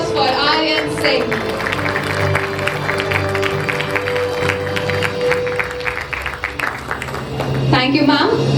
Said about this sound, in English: A big round of applause for Aryan Singh.